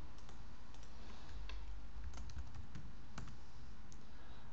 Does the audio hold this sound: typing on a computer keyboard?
yes